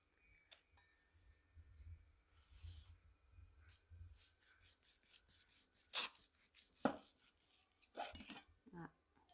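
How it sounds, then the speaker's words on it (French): A knife slicing through a roast venison joint makes faint, soft rubbing sounds, then a run of short rasping sawing strokes that grow louder near the end, against an otherwise quiet kitchen. "on va couper le rôti"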